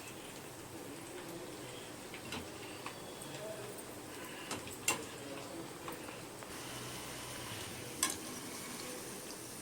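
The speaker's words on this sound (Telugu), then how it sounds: "ఇందులోనే మనం ఆయిల్ పోసుకుని బ్రెడ్ కూడా వేయించేసుకుందామండి" Bread fries in hot oil, a faint, even hiss and crackle with a few sharp ticks from the pan throughout.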